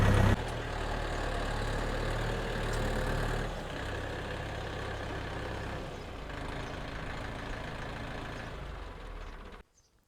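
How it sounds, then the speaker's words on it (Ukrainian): A GAZ truck passes on a rural road with a deep, loud engine rumble that holds steady, eases slightly partway through, then fades and cuts off. "газончик їде, пропустимо"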